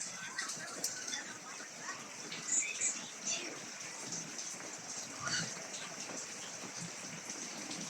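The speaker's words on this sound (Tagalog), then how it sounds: "Umuulan dito." Light rain pattering steadily on surfaces, faint and soft, with a few louder drip bursts and a bird chirping in the background.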